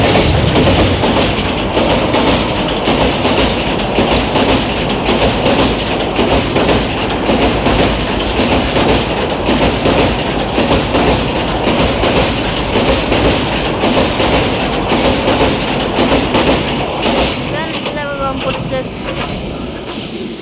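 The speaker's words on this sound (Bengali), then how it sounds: "এই যে দেখতে পাচ্ছেন রংপুর এক্সপ্রেস চলে এসেছে।" Rangpur Express passenger train hauled by locomotive 3002 rolls through a station, a steady loud rumble of wheels and rail clatter that holds throughout and eases slightly near the end, with faint voices nearby.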